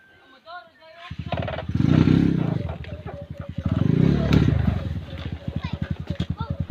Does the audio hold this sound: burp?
no